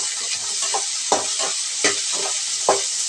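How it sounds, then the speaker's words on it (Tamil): Carrots and beans sautéed in a pan for vegetable kurma, with a steady bright sizzle broken by several distinct scraping stir strokes at irregular intervals, close up and without speech. "இப்போ இதில் வந்து நம்ம கேரட் சேர்த்துருவோம் பீன்ஸ் சேர்த்துருவோம் இதை கொஞ்சமாக நம்ம வதக்கி விட்டுக்கலாம்"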